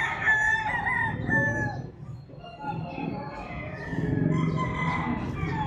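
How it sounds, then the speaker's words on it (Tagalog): Roosters crow repeatedly amid clucking chickens at a Tuesday livestock auction chicken market in Padre Garcia, several calls overlapping at close range while someone talks over the poultry noise. "Bintahan ng manok dito sa Padre Garcia Livestock Auction Market."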